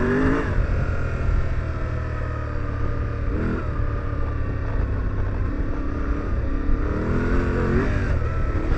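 A motorcycle engine drones steadily and loudly through off-road riding at about 40 miles an hour, pitch rising and falling as the rider works the throttle over rough ground.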